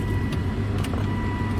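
A 2005 Volvo S60 2.5T with its five-cylinder turbo engine, low mileage, settling into a steady, close idle with faint clicks over the rumble and no voices.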